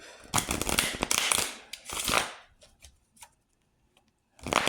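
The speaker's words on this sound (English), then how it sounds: "we're going to shuffle again in front of everybody." Cards riffle and snap in quick rattling bursts, followed by a pause, a few soft taps, and another burst of shuffling.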